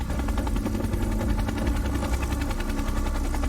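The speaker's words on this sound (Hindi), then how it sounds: "हेलीपैड पर काफी गहमा गहमी है क्योंकि सोल्जर्स हेलीकॉप्टर में सारे जरूरी सामान को लाद रहे हैं" A military helicopter runs steadily on a helipad while soldiers load supplies such as heating fuel and dehydrated meals, with a loud, continuous rotor and engine roar close by.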